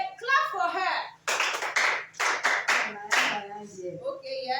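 Students in a school seminar classroom break into a short burst of clapping for a classmate, several loud hand claps in quick bursts after a voice, with talking before and after.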